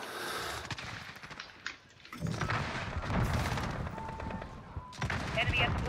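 Gunfire in Call of Duty: Modern Warfare: rapid automatic bursts and single shots crack loudly in clusters, with a short lull near the middle before heavy firing resumes, layered over game ambience and faint chatter.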